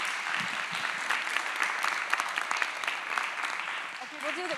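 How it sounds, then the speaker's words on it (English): An audience at a county Title IX panel event applauds an award recipient, a sustained crackle of clapping with sharp individual claps standing out, fading near the end as a voice briefly speaks. "let's give them a huge round of applause"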